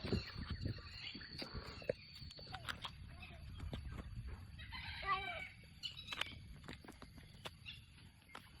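Chickens cluck and a rooster crows at a campsite near Sam Lan waterfall, with one clearer call midway, amid outdoor background noise and faint voices.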